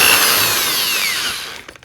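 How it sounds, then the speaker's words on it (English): A power drill fitted with a small bit whines loud and close as it bores a hole, the high-pitched motor tone gliding steadily downward before cutting off abruptly. "we'll just drill a hole"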